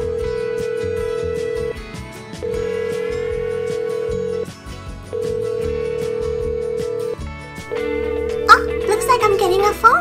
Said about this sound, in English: A phone call. Who could it be?